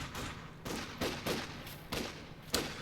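Rifle fire from a Volk squad shooting at an advancing flamethrower engineer in the Company of Heroes 2 video game, a run of sharp, evenly spaced cracks about every half second.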